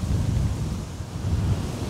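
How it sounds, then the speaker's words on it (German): Strong wind by the Danube river buffets the microphone with a steady, loud low roar and rumbling gusts throughout, with no voices present. "Es ist da extremer Wind herunten."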